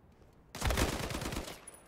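A burst of rapid gunfire erupts after half a second of quiet in a Call of Duty Vanguard competitive match, loud, dense and sustained for about a second before tapering off.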